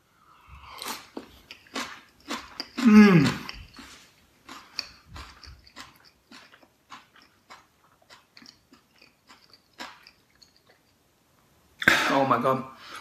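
Someone bites into and chews crunchy Xinjiang chilli and pepper chicken tossed in chili oil, with a run of close, moist crunches and smacking chews between quiet gaps, plus a few vocal sounds.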